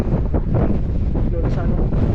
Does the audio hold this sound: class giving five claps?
no